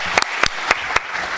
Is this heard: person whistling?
no